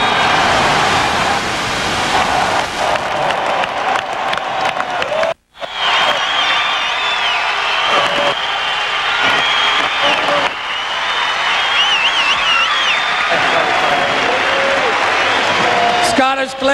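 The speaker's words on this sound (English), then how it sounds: "give a round of applause to the Scottish Claymores and Jim Kreiner" Stadium crowd at the 1996 World Bowl applauding the champion Scottish Claymores and coach Jim Kreiner, a loud sustained roar of clapping and cheering under an announcer's voice, with a brief cut partway through.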